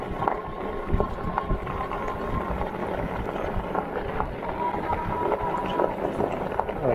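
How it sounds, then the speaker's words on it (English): An Espin Nesta folding fat tire e-bike rolls over a gravelly road of pebbles, giving a steady close crunching rumble with scattered bumps and clicks, mixed with wind noise on the microphone. "tackle this gravelly road pretty well. Bumping these pebbles."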